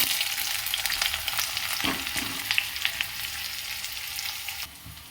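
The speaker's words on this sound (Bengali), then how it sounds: "শুকনো লঙ্কাটা ভাজা হয়ে গেছে এরপরে পেঁয়াজগুলো দিয়ে দেবো" Onions sizzle steadily in a hot pan after dried red chillies have been fried, a dense crackling hiss with occasional stirring scrapes, close up and continuous until it quiets near the end.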